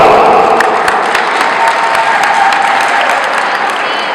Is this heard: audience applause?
yes